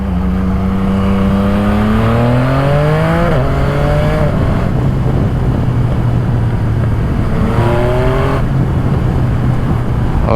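Yamaha MT-09 SP motorcycle fitted with a full Spark exhaust, ridden in low gears: a loud, close engine rising and falling through repeated revving pulls and gear changes, with constant wind noise, and no talk.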